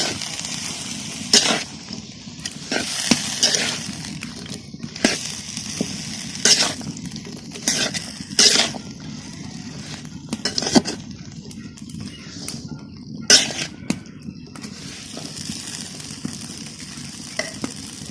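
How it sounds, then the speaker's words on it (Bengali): Potatoes frying with chili powder and salt in a pan for a dry aloo bhaji, a steady close sizzle broken by repeated sharp scraping strokes of stirring. "তারপর আমি আলুগুলোকে মশলার সাথে ভালো করে মিশিয়ে নেব।"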